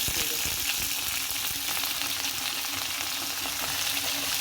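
Bitter gourd and potato pieces fry in hot oil tempered with bay leaf, a continuous crackling sizzle with occasional stirring scrapes, close and steady throughout.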